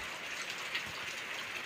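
Steady rain falls over a home garden in a village, a soft continuous patter and hiss with a few brief drips standing out, faint and even throughout with no voices.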